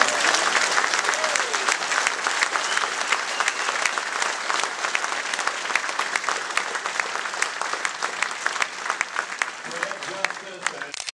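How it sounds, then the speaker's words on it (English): Sustained, dense applause from an audience at a hot rod reunion awards ceremony in Bakersfield, California, holding steady and loud throughout before tapering slightly at the end. "a round of applause for all of us"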